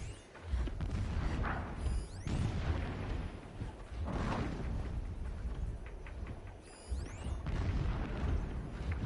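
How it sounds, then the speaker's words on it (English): Distant explosions in Horizon Zero Dawn roll through as several low booms with whooshing tails, spaced a few seconds apart over a steady dense background rumble. "Explosions in the distance."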